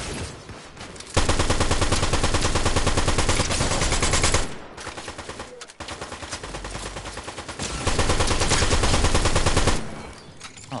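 Video game gunfire in Fortnite, with long loud bursts of rapid automatic shots broken by short pauses and a quieter stretch in the middle, dense and close, with no talk.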